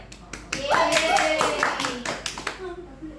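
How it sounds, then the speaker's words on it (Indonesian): A class of students claps for a classmate during a group guidance lesson, a burst of uneven handclaps with children's voices chattering over it, fading out after about three seconds. "Tepuk tangan untuk Asir."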